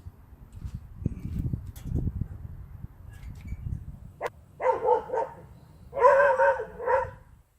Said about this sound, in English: Blasted dogs.